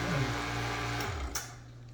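A small vacuum pump slowly drawing air out of a container, a steady mechanical hum with shifting tones and a brief click near the end, heard alone at close range.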